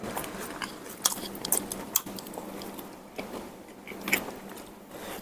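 Crisp crunching bites into salt-marinated deep-fried chicken, several sharp close crunches spaced over a few seconds with soft chewing in between.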